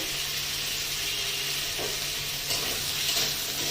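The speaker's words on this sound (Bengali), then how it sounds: "আর যে কাঁকড়াগুলোকে নিয়েছি এইগুলোকে এবার আমি একটু এই ঘির মধ্যেই ভেজে নেব।" Crabs frying in ghee with turmeric and salt sizzle in a steady, dense hiss, close and even throughout, with faint stirring and no talking.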